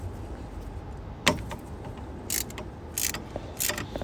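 A socket ratchet works on a Nissan Qashqai engine while spark plugs are removed, making a sharp clack and then several short bursts of ratcheting clicks over a low background.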